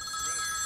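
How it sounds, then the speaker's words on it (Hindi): A telephone rings with a steady electronic tone, heard in a single brief stretch with nothing else over it, moderately loud. "सीएम साहब को फोन आ गया यार।"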